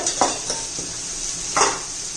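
Onion, garlic, homemade masala and turmeric frying in a pan for rajma biryani: a steady close sizzle with a few brief stirring scrapes of a spoon against the pan, no voices.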